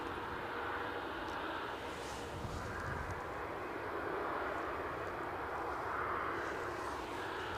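Aer Lingus ATR 72 turboprop arriving at windy Edinburgh Airport, a faint, distant steady engine drone with a soft rising and falling hum over several seconds.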